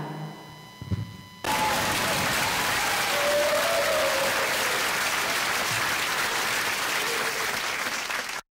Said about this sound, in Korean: 뜨거운 박수 주시기 바랍니다